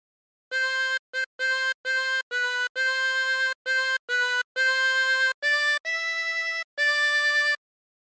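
A 24-hole tremolo harmonica plays a melody alone, about a dozen clear, sustained, shimmering notes with short gaps between them, loud and close.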